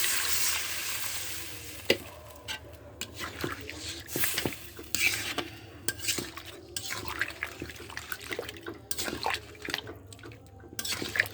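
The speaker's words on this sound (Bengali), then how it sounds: "কষানো হয়ে গেছে, এবার আমি জল দেব" Water goes into a hot pan of crab curry with taro, setting off a hiss and bubbling sizzle with scattered splashes, clinks and scraping stirs at moderate level, faint background sounds underneath and no speech.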